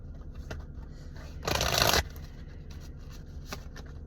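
A deck of tarot cards is shuffled in one brief, dense burst of riffling, loud against a quiet room, fading after about half a second.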